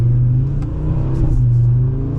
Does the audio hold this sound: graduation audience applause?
no